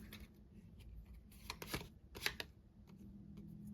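Fortune-telling cards being shuffled close up, a few quick riffling bursts followed by softer handling, with no talking.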